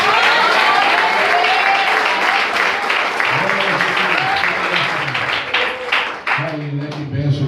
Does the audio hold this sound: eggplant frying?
no